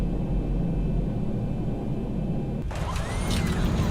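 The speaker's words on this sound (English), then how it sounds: "Reversers, nose down gently. Decelerating." A Boeing 737-800 (Zibo Mod) in X-Plane 11 deploys thrust reversers after landing on runway 27 at San Diego, a loud, steady engine roar that shifts in tone partway through.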